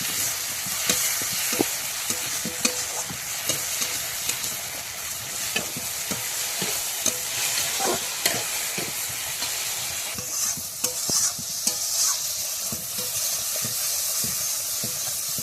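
Spice paste with turmeric being stirred in a wok for Bengali shukto, a constant frying sizzle broken by repeated scraping and tapping strokes of a spatula at an irregular, steady pace, no voices.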